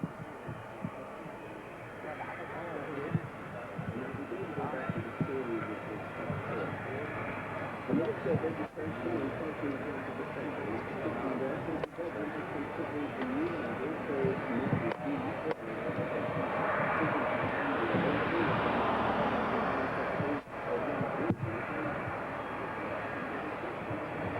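An Airbus A380 approaches to land, its steady broad engine roar filling the whole stretch under continuous narration.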